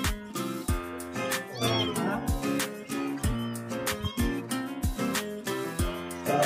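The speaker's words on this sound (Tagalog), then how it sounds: "2 pusa." Cats meow over music with rhythmic beats and sustained tones, the meows rising and falling as wavering cries that stand out in the mix.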